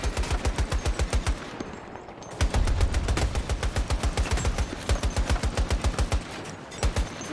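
Rapid automatic gunfire from Battlefield 2042, loud and close, firing in sustained bursts of evenly spaced shots with a brief pause partway through, no talk over it.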